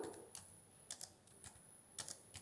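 Typing on a computer keyboard in PowerPoint 2010: a few sparse, faint key clicks and short bursts of taps spaced across a quiet room.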